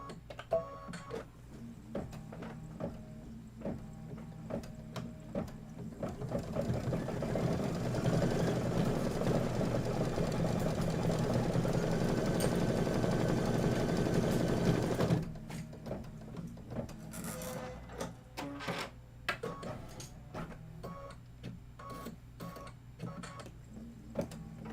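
A computerized embroidery machine stitches out a knitting needles design for a Kimberbell autumn quilt block, a steady mechanical whirr with rapid needle ticking that swells louder for several seconds, then gives way to scattered clicks and handling noises nearby.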